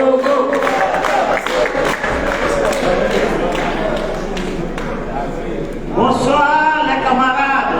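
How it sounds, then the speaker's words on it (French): A crowd at an African speakers' gathering in Paris applauds and cheers for Togo, with dense, loud clapping and shouting that runs continuously before a single voice begins speaking near the end. "Applaudissez Togo."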